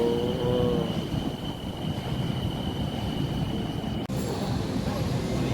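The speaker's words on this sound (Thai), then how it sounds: "รถไฟนะครับผมก็วิ่งเขาสถานีนะ" A train rumbles steadily nearby as it runs into a station, with a constant mechanical drone and a high whine, wind buffeting the microphone.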